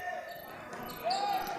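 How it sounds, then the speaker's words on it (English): Basketball bouncing on a gym floor during a youth state tournament game, soft repeated thuds faintly heard under steady crowd and announcer noise. "Ball bouncing around, OG gets it back."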